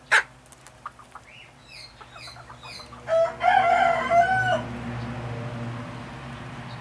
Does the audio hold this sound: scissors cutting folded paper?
no